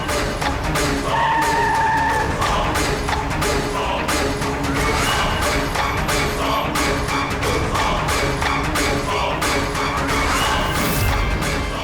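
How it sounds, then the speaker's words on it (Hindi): A car brakes and skids to a halt in a dense, loud crime-drama scene, with tire noise and impacts layered over music and effects throughout. "गाड़ी रोको, साइड में लगाओ।"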